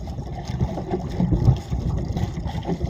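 Small fishing boat out at sea, with a continuous low rumble and wind buffeting the microphone, swelling and easing unevenly across the moment.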